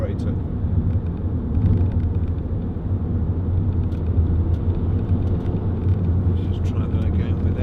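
A Vauxhall Zafira 1.9 CDTi 16v SRi five-door diesel on the move, heard from inside as a steady low engine drone and road rumble, with a brief swell in the first seconds.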